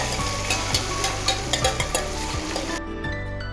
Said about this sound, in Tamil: இப்போ மேஷ் பண்ண அந்த சாதத்தை அதில் போடணும்